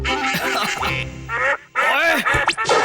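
Cartoon ducks quacking in an animated Hindi children's comedy, a rapid series of loud, nasal honking quacks close up, several overlapping, mixed with busy cartoon sound effects.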